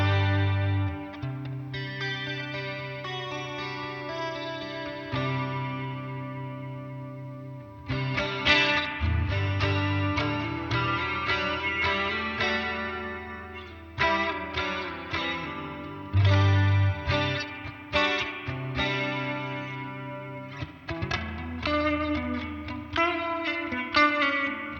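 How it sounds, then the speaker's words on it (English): Electric guitar played through a Past Effects chorus ensemble pedal, alongside a Danelectro Spring King Junior reverb, rings out in sustained chords and picked notes with a lush, wavering shimmer, steady and close for the whole stretch. "I've also got the chorus ensemble pedal from Past Effects"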